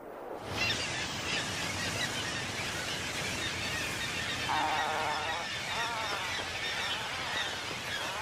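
A dense colony of breeding seabirds on a northern Pacific island fills the air with continuous overlapping honking and squawking calls, loud and steady with no pause.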